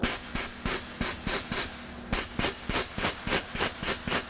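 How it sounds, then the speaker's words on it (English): Rhythmic bursts of hissing air or spray from a leak up inside a car fender near the windshield washer line, roughly a dozen pulses in steady rhythm with a short pause midway, loud and close with no talking. "I can hear a leak right in this area whenever I do this."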